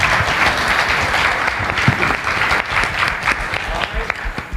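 A church congregation at a celebration service gives a sustained, dense round of applause, loud and close, filling the whole stretch with crowd murmur and scattered voices mixed in.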